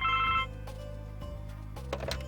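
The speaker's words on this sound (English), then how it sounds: "we should probably really get the phone" A telephone rings in The Blackwell Legacy point-and-click adventure game, a short electronic ring burst at the start followed by a quieter tone over background game music.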